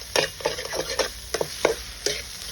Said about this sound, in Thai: ผัดจนให้เข้าแบบเหลืองๆนะครับ